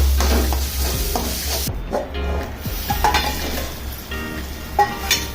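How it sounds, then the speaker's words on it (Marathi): Kharda, a green chili thecha, sautéing in oil on a low flame with salt and sugar, a continuous close sizzle with repeated spatula scrapes and light metallic clinks against the pan. "यात मी आता चवीनुसार मीठ आणि थोडीशी साखर सोडते आणि एक 2 ते 3 मिनिटं पुन्हा याला बारीक फ्लेमवर मी चांगले परतून घेते"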